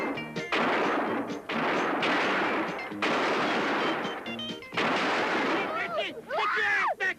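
Gunfire from a western action movie shootout: several loud, sharp rifle and gun blasts that ring out in bursts, close and echoing, with brief gaps between volleys and shouted voices near the end.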